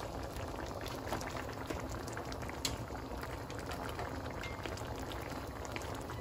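Upo gourd and mixed vegetables simmer in a covered pan, a steady close bubbling and hissing boil with faint crackles running throughout, no voices.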